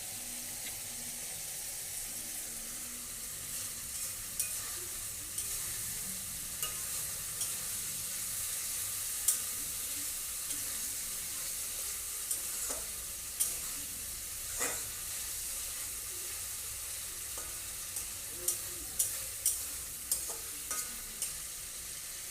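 Bengali egg curry sizzling in a pan as coriander leaves go in: a steady frying hiss runs throughout, broken by scattered soft clicks of stirring.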